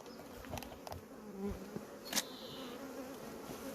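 Honey bees buzz steadily around a hive during transfer to a new-base hive late in the day, a continuous close drone with a few louder passes and brief clicks.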